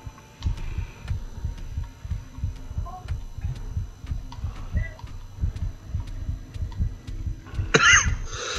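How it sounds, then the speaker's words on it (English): Heavy, steady heartbeat thumps pulse from the Backrooms horror game, a low throbbing rhythm repeating about twice a second under a faint hum, with a brief bright electronic blip near the end. "My heartbeat is going so hard."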